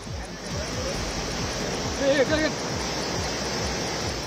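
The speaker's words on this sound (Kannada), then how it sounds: "ಪಲ್ಗುಣಿ ನದಿಯ ಹರಿವಿನಲ್ಲಿ ನೀರು ಏರಿಕೆಯಾಗಿದ್ದು ತಗ್ಗು ಪ್ರದೇಶಗಳಿಗೆ ನುಗ್ಗಿದೆ" The flooded Phalguni river surges after heavy rain, a broad steady roar of rushing water close by, with a brief louder swell in the middle.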